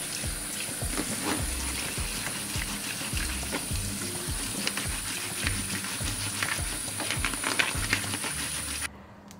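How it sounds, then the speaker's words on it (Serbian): Two air filters are rinsed under a running tap, giving a steady close hiss of flowing water with soft rhythmic thumps and splashes as they are handled, ending abruptly. "I sada ću oba filtera isprati sa vodom."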